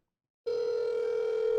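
A Google Pixel 6 Pro phone rings with an incoming call, a steady electronic tone starting abruptly after brief silence and holding loud and even.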